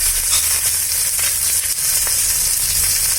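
Mustard seeds and red chili sizzle and crackle in hot oil while potato masala for masala dosa is prepared, a loud, steady, close frying hiss that never lets up.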